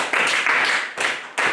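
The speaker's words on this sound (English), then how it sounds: "Can you clap your hands to God for Hallelujah." Members of a church home group congregation clap their hands together in a few loud, evenly spaced bursts, close and distinct.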